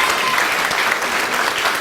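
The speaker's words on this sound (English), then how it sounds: "All this alone deserves a nice round of applause." An audience at a school event applauds with a steady, dense patter of many hands clapping, loud and close, with no pause throughout.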